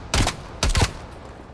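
Two short, loud bursts of rapid automatic gunfire from a Call of Duty: Cold War video game weapon, each lasting a fraction of a second, with a brief gap between them and a fading tail after the second.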